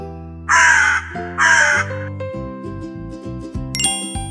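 Two harsh, loud caws from a crow come in quick succession near the start, followed by bright chiming music tones and jingles with no talking.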